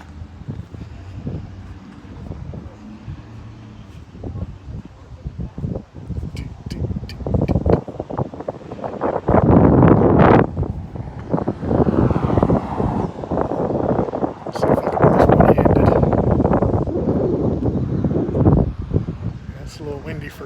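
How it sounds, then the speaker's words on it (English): Wind gusts outdoors at a mailbox, buffeting the microphone with heavy, rumbling blasts that swell and ease, loudest in the middle and later stretches, while a person talks intermittently. "It's a little windy for this area."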